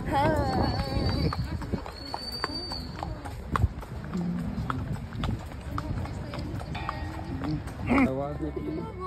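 Horse hooves clip-clop as the animal walks while carrying a rider, an uneven series of nearby hoofbeats under people chatting and other outdoor noise.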